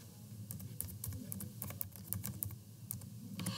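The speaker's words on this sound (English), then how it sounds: "I will type Kaltura and announcements" Tags are typed on a computer keyboard, a quick, faint run of close key clicks in an irregular rhythm over a low background hum.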